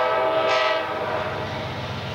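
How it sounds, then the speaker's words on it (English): Amtrak passenger train 91 passing at Folkston, Georgia, its horn blaring loud and close with a rising burst near the start, over the steady rumble and clatter of railcars rolling by. "Here comes Amtrak"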